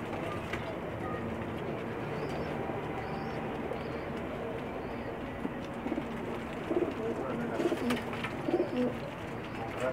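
Pakistani pigeons cooing in their coops, soft repeated coos layered over a busy background with louder bursts toward the end.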